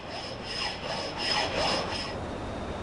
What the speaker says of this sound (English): This is a flat file, but its shorter teeth remove much less material on each stroke, and the finish is much smoother.